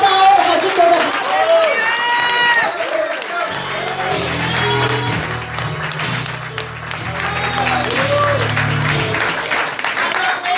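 A church congregation applauds and cheers during a service with a preacher, a loud, sustained crowd roar of clapping and shouts mixed with voices and a low musical drone.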